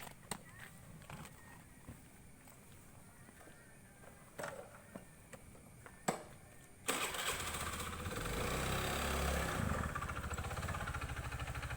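A motorcycle engine cranks and catches partway through, then settles into a steady mid-pitched running idle. Scattered clicks and knocks come before it, and no one speaks.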